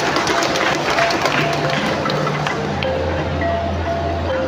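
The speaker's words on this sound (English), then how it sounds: "Let us give him a big round of applause" Audience applause welcomes the city vice mayor at a government assembly: a loud, even roomful of clapping that holds steady throughout, with a low hum and faint crowd murmur beneath.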